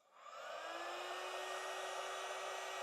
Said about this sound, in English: Otherwise, use a hairdryer.